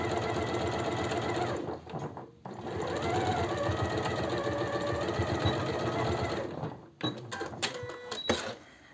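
A sewing machine runs steadily, stitching the upper collar of a warm home robe sewn from fleece. The whirring stitching is loud and continuous, with short pauses near the start and toward the end.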